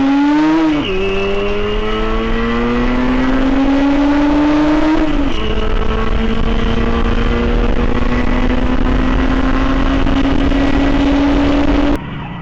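A Motobécane 125 LT3 motorcycle, freshly cleaned with its carburettor synchronised, revs up loud and close, its engine note climbing steadily through a couple of gear changes before cutting off abruptly at the end.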